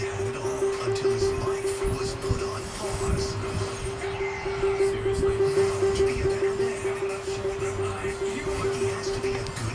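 Homemade tornado siren giving a steady, sustained wailing tone over a rumbling, noisy background, fairly loud and continuous.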